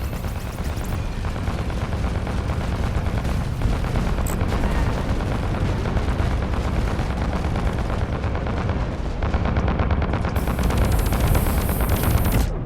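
Continuous heavy gunfire and booming cannon blasts from a naval fleet in a video game, dense and loud throughout with no pause.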